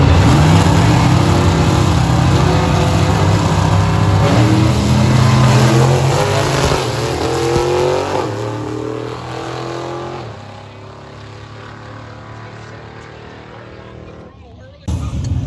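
Gasser drag race cars, including a 1941 Willys, roar loudly at a drag strip. The engine noise is heavy and revving at first, then fades into a lower drone, with an announcer talking over it throughout.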